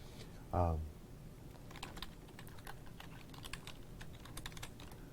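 Light clicking of a computer keyboard while writing Python code, quick irregular keystrokes in short bursts after a brief low thump, fairly faint over a steady background hiss.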